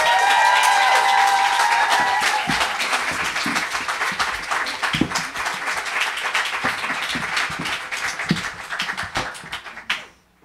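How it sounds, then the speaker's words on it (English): Sustained applause from an audience at a book launch for Colonize This!, dense clapping with some cheering voices early on, filling about ten seconds before fading out abruptly at the end. "So a big warm applause to Saida."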